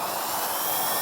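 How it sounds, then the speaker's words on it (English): A power drill bores a pilot hole through the metal body of a van, a steady, close, high-pitched whine with no talk over it. "So here I'm drilling a pilot hole so my jigsaw can fit inside it"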